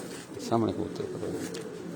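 Galwa pigeons from a fancier's loft in Pindi Bhattian cooing, with low rolling coos rising briefly at close range under ongoing talk and background noise.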